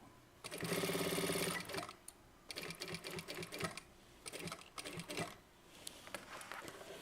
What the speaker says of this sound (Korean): 여기는 단추면까지 끝까지 박아줍니다